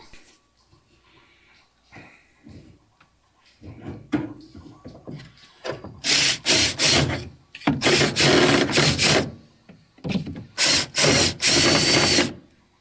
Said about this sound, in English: I'm going to just go and drill right through it and stick this hose down there.